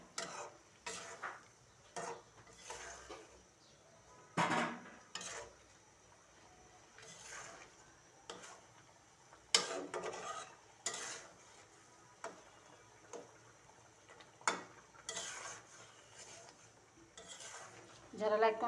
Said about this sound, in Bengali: মাছ দিয়ে দিলাম। এখন আমি কষাইতে থাকবো